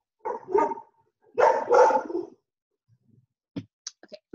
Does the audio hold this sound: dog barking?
yes